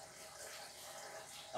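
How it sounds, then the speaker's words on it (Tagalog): Tap water runs steadily from a faucet while balloons are being filled with helium, a continuous broadband hiss at close range that stays even throughout with no talking over it. "Yung gripo."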